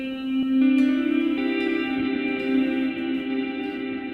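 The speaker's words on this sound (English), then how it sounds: "the original Taj Mahal preset, just find it, has got a really crazy reverb time of 100 seconds" Electric guitar played through a long Taj Mahal reverb preset on iOS, with sustained notes blooming into a dense shimmering wash that keeps ringing as new tones swell in, heard alone.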